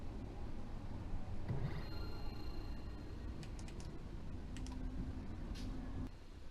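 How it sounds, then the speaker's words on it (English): A computer mouse clicking during a PC game, faint scattered clicks over a low background hum, with no talking. "Why clicking doesn't do anything?"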